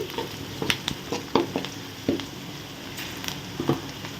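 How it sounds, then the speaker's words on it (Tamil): Chopped onions fry in a pan, a soft steady sizzle broken by scraping clicks from stirring, close and fairly quiet with no talk. "இப்போ வெங்காயம் நல்லா வறுவடட்டும்"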